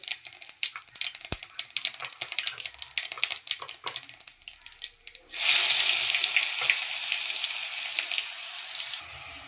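Mustard seeds and cumin crackle in hot oil with rapid, sharp, irregular pops for several seconds, then give way to a loud, steady sizzling hiss that holds until the end; no talking.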